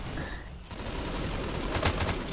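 Sustained rapid gunfire hammering the front screen of a cart in a VR esports shooter match, a steady dense rattle at moderate level with a brief lull near the start.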